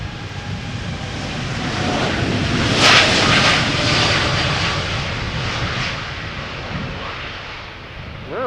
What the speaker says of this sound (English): That sounds like a D-rated takeoff.